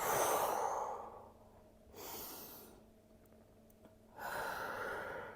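Soft, close breaths during a core-focused barre workout: a long exhale, a quieter pause and stretch of breathing, then another audible breath, with no talking.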